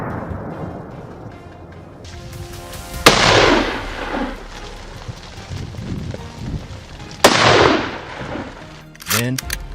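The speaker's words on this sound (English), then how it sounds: "A precise shot to the wing brought the boar crashing" Gunfire aimed at wild boars during a farmers' hunt: two loud, sharp shots about four seconds apart, each trailing off in a rumbling echo, with a brief clattering sound near the end.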